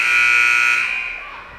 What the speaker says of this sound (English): The buzzer ringing again, deafening.